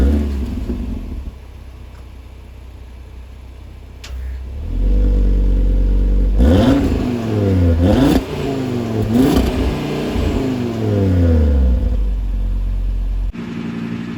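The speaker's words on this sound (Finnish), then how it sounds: "Autossa on 5-sylinterinen moottori ja sen kyllä kuulee myöskin tuosta käyntiäänestä." Cupra Formentor VZ5 five-cylinder engine idling low, then blipped through several sharp revs that climb and fall in quick succession, loud and close, before settling back to a steady idle.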